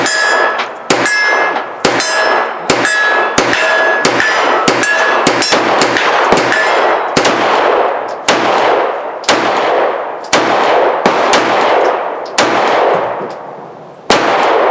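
A CZ P09c 9mm compact pistol fired in a steady string of roughly a dozen sharp, loud shots, each with a ringing metallic clang and reverberant decay, spaced about half a second to a second apart with no talking.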